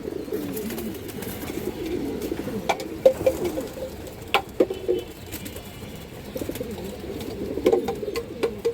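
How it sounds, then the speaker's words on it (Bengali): A female pigeon coos close by, soft low rolling coos repeating steadily over a background of other birds' murmuring and occasional sharp clicks or flutters. "অনেক চঞ্চল একটা মাদি কবুতর"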